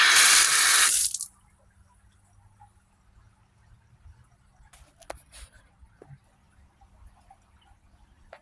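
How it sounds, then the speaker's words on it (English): A repaired outdoor garden hose bib turned on gushes in a loud, brief burst of running water, then cuts off to near silence with faint scattered drips and small clicks. "let's go ahead and turn the water back on and make sure nothing leaks"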